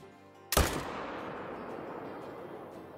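A single loud rifle shot fired at a bull in the hunting video game Call of the Wild, a sharp crack followed by a long fading echo over quiet ambience.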